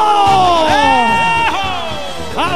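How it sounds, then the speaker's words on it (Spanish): A loud rodeo crowd at a jaripeo in a medialuna arena cheers and shouts, with whoops, whistles and excited voices swelling together close by. "¡Aplauso fuerte!"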